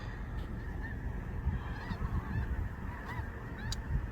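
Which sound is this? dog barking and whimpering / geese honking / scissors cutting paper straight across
geese honking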